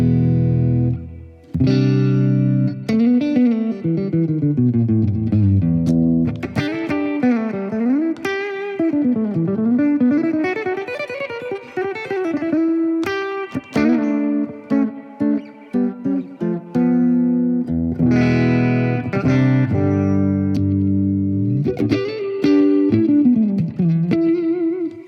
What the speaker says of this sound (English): This is basement clean with a lot less reverb and delay.